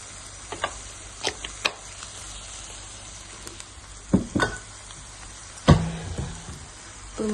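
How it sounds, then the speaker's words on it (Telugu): Spinach chicken keema fries in a pan while a spoon stirs it, with soft sizzling under scattered scrapes and clacks of the utensil against the pan. Two louder knocks come near the end. "ఇప్పుడు మంచిగా తిప్పేసుకుందాం."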